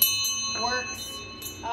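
A working bell at a show sale rings with sustained, steady metallic tones, loud and close, as short clanging strikes repeat over the lingering ring within under two seconds.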